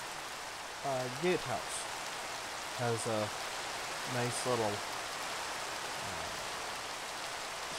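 Steady rain falls over a castle built in a building video game, a constant hiss of drops spread evenly throughout while someone talks intermittently over it.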